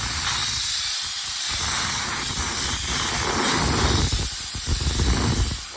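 Compressed air blasts steadily from a nozzle, blowing rinse water off a cleaned car radiator before sandblasting and Cerakote coating; a loud, continuous close hiss with spraying bursts that swell and dip over several seconds.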